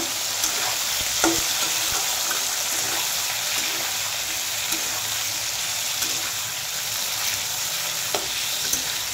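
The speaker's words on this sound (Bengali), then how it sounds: "মশলা বানানোর জন্য এই যে পেঁয়াজ, টমেটো, আদা, কাঁচা লঙ্কা, শুকনো লঙ্কা সব কিছু একসাথে আমি ফ্রাই করে নেব।" Onion, tomato, ginger, and green and dried chillies frying together in a pan for a masala base, a steady close sizzle with faint stirring scrapes and no voices.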